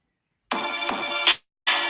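A phone ringtone plays in three bursts, the tone repeating with short breaks between them, fairly loud and close with no talking.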